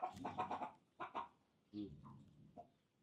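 A chicken clucks close by in a short burst of several rapid clucks, then a couple of single clucks after a pause, with quiet gaps between them.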